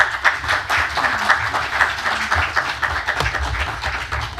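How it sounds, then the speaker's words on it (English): An audience at a London medical conference applauds warmly with dense, sustained clapping for a few seconds, moderately loud and filling the hall. "Let's give a warm applause to Professor Yaqoob Magdi"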